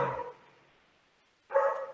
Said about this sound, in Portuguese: cachorrada cismou com alguém lá fora